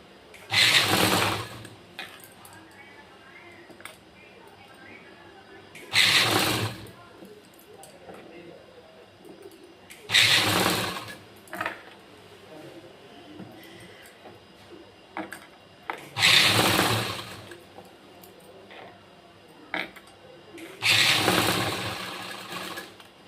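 Sewing machine stitching along the neckline of an embroidered blouse, running in five separate bursts of rapid whirring, each lasting about a second, with quiet pauses between them.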